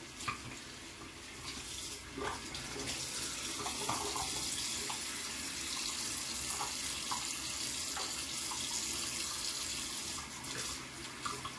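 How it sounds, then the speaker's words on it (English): Warm water runs steadily from a tap, splashing continuously with small irregular splashes as hands rinse a face in the stream, no talking. "I go back in again and I rinse my face off"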